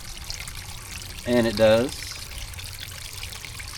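Water trickling over a rock into a small pool in a backyard bird spa, a steady soft outdoor flow under a man's brief speech.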